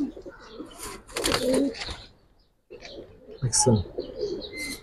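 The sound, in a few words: Giribaz pigeons cooing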